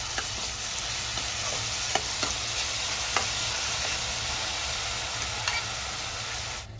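Green chili and garlic paste sizzles in hot oil during tempering, a steady low frying hiss with scattered faint pops and spoon scrapes as it is stirred, no voices.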